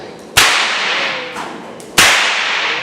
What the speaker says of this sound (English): when we are cracking the whip, we are riding on a horse